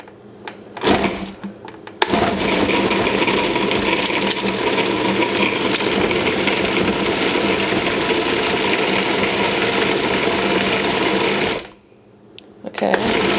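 A Cuisinart food processor whirs steadily, blending a sticky paste of homemade Rolo-style candy filling, a loud continuous motor drone running about ten seconds after a brief start, then cutting off with a few clicks and handling sounds.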